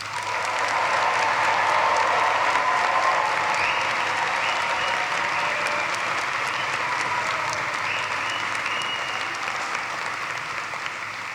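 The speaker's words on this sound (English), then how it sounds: "can we give the graduating class of 2023 an applause" A graduation audience applauds steadily, a dense wash of clapping from a large crowd that holds for about eleven seconds and tapers only slightly at the end.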